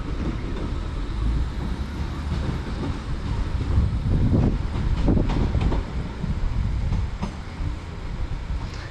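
Passenger train on the West Coast Main Line at Lancaster, a loud broad rumble of wheels and carriages rolling past close by with occasional rail clicks and wind buffeting the microphone.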